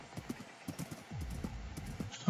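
Horses near a village in Minecraft, with light clip-clop hoof taps in uneven bursts, fairly faint, mixed with soft clicking and a louder thump at the end.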